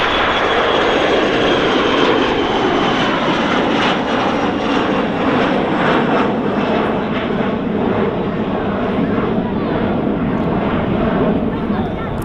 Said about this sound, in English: the Logan Embraer 145 that's just departed